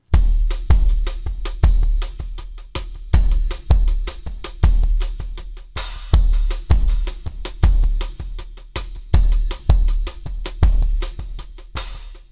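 A UJAM Virtual Drummer Deep drum pattern plays alone: loud, booming kicks and sharp snare hits in a steady repeating groove, with constant hi-hat ticking on top and no talking.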